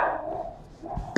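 A single dog gives a short, muffled bark or whimper, fairly faint, over room tone.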